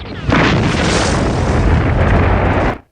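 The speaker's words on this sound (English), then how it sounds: "The Blights use the other bomb as a demonstration." A cartoon bomb detonates in a loud, sustained blast, a dense roaring boom that holds steady for over two seconds before cutting off abruptly, with no voices over it.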